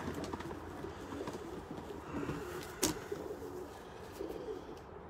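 Racing pigeons in a basket being loaded for an 80-mile sprint race give soft, low cooing under a steady murmur of background noise, with one sharp knock partway through.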